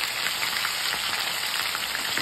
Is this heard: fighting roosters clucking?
no